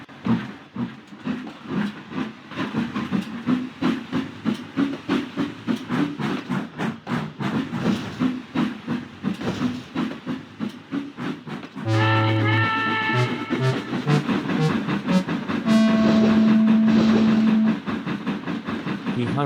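Percy the steam engine puffs along the railway in rhythmic chuffs that speed up, then give way to a steady rumble with a short whistle near the end, with no talk.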